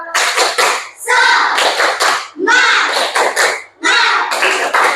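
A classroom group of teachers claps a patterned rhythmic cheer, bursts of quick claps broken by short pauses, loud and close, repeated several times.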